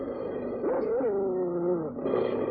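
A dog whimpers and whines up close, a drawn-out wavering cry that rises, dips and trails off, then a brief sniffing rustle, with no one speaking.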